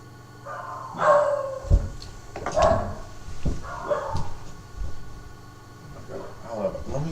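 A dog barks and whimpers indoors in a string of loud, uneven yips and bow-wows with short pauses, mixed with some background voice.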